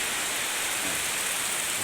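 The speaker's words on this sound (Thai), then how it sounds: "ฝนตกข้างหลังวัด" Steady rain pouring down behind a temple, a dense, even hiss of falling water heard alone and continuous throughout.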